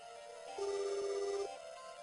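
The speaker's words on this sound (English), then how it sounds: "The phone is ringing." A phone rings in the Silent Hill Play Novel game: a steady electronic ringtone tone holds for about a second over a faint background hum, then cuts off.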